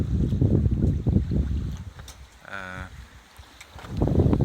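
Maxi 95 sailboat under sail near Plymouth Sound, with wind buffeting and water rushing along the hull, swelling and easing, and a quieter lull in the middle.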